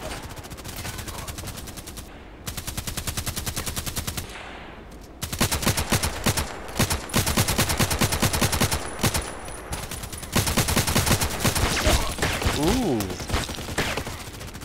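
Rapid gunfire in the online shooter Contract Wars, with dense automatic bursts and single shots rattling almost nonstop, loud and close, under occasional speech.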